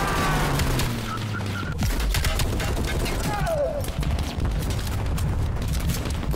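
Bursts of video game gunfire ring out in quick rapid volleys with booming shots, under loud excited talk from a player.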